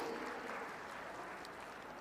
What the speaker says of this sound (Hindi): आप सभी की दमदार तालियां मंच तक पहुंचनी चाहिए।